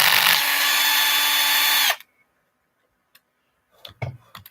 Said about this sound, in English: You can see I'm using an MIP tip on a Milwaukee 12 volt.